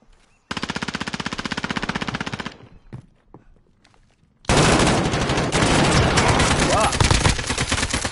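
Rapid automatic gunfire in a PS4 shooter video game, two loud sustained bursts of machine-gun fire separated by a short gap with a few scattered shots, close and dominant.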